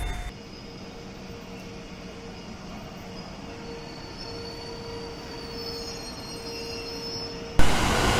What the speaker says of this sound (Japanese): この14両編成の寝台特急電車